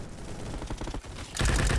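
Rapid automatic gunfire in the Roblox first-person shooter Bad Business, a steady rattling burst that grows louder and denser near the end.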